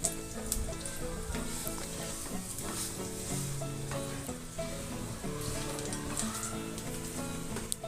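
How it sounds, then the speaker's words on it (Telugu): Date paste frying and being stirred in ghee in a pan for sugar-free date and dry fruit laddoos, with a steady close sizzle and crackle and occasional spoon scrapes throughout, no talking. "ఖర్జూరం పేస్ట్ని ప్యాన్లో వేసుకొని వేయించుకుందాము"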